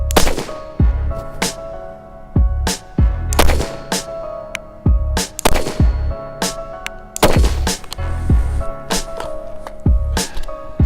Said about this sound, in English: This is certainly one of my least scientific shots.